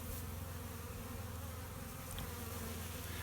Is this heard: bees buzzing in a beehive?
yes